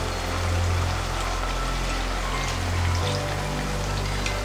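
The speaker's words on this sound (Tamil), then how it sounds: "கலக்கிட்டு நடுவில் அப்படியே ஊற்றணும்." Neyappam batter poured into hot oil for the traditional Kerala sweet, giving a steady hissing, bubbling sizzle that swells briefly twice, close and continuous with no talk.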